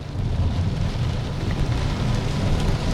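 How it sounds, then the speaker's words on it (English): Heavy rain pours along a thunderstorm line, a dense, steady roar of downpour that stays loud and unbroken throughout, with no voices. "there's still heavy rain in and along this storm line right now"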